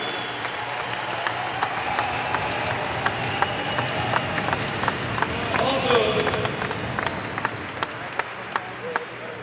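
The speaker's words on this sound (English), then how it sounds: "I think we can all join together with a big round of applause" A crowd applauds steadily throughout, many hands clapping at once with a few sharp, closer claps standing out, and faint voices mixed in.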